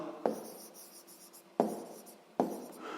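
Chalk or pen writing down numbers for a sixth-grade maths exercise, three sharp tapping strokes each followed by scratchy scraping, close and clear with no talk.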